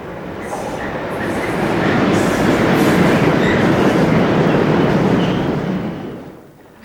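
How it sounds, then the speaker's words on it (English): A Class 66 locomotive, number 66116, working the Cricklewood to Wembley Enterprise service through the reopened Dalston Kingsland station, a loud steady rumble and wheel roar that swells, holds and then fades as it passes close by. "Running through the reopened station at Dalston Kingsland is the new Cricklewood to Wembley Enterprise service"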